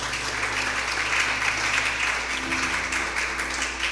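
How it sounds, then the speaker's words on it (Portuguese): A church crowd claps steadily and warmly, sustained applause from many hands with a low hum running underneath. "Pode aplaudir o Mateus."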